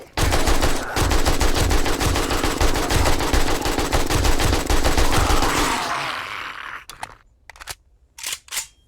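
Rapid automatic AK rifle fire in the zombie survival game 7 Days To Die, a loud sustained burst of shots lasting several seconds before cutting off, followed by a few scattered single shots.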